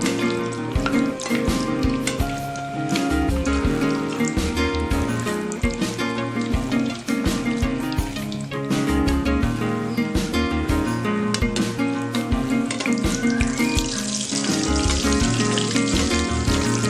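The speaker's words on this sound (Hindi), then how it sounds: "अब गरम गरम ऑयल इसके ऊपर डालते जाए।" Aloo kachori fry in hot oil as more hot oil is spooned over them, giving a loud, dense, continuous bubbling sizzle close up that runs without a break; no voices are heard.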